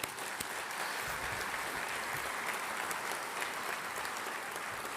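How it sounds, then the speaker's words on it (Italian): An audience in a theatre claps steadily and loudly throughout an Italian economy and development awards ceremony, a dense, continuous wash of applause with almost no talk. "Facciamogli un applauso."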